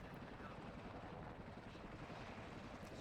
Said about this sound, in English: I'm actually flying this helicopter in. The beautiful landing right there.